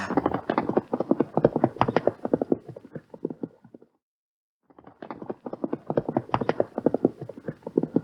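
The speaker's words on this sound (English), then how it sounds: "I'm gonna go take him for a gallop to that creek in the back" Rapid hoofbeats clatter in a fast, steady rhythm, stop briefly for a moment of silence, then resume at the same quick pace.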